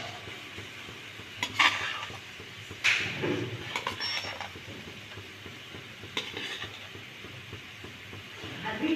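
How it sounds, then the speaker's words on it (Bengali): Fried potatoes tipped into a simmering shrimp gravy and stirred, giving soft scraping stirs and light clinks of a spoon against the pan over a steady low sizzle, close and fairly quiet. "এরপরে দিয়ে দেবো ভেজে রাখা আলুগুলো।"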